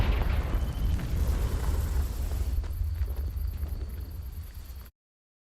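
Confringo blasting curse explosion in the Hogwarts Legacy video game, a loud, roaring burst of rumble that slowly fades over about five seconds, then cuts to silence.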